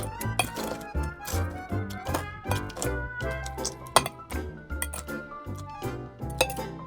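Sugar cubes muddled with simple syrup in a cocktail glass for a vodka drink, giving repeated close clinks and dull thunks of a muddler against glass in a steady rhythm, with no talk.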